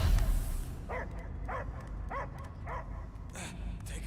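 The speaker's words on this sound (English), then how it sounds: "I hear only barking." A dog barks in a run of five or six evenly spaced, yelping barks inside the Marvel's Guardians of the Galaxy video game, heard over a steady game soundscape.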